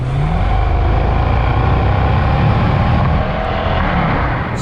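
A supercharged Range Rover with 216,000 miles cruises at about 70 mph, its engine holding a steady low drone under a loud, even wash of road and wind noise.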